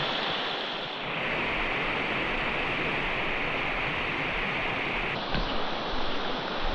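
Steady, close rushing water from a waterfall on a small New Hampshire brook, a constant broadband roar lasting throughout with no voices.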